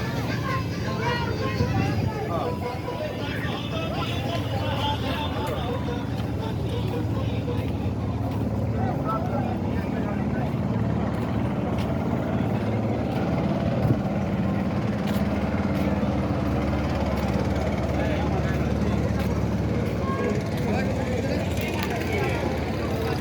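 A trawler boat's engine runs on the river with a continuous low drone throughout, moderately loud and steady, with faint voices and babble mixed underneath.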